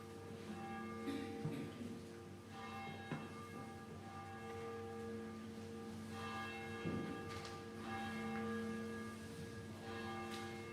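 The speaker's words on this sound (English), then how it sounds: "pause, and center ourselves as the tower bell calls us to worship." A church tower bell rings before a Sunday morning service, its deep resonant strokes repeating slowly every few seconds and lingering with long humming overtones, moderately distant and steady throughout.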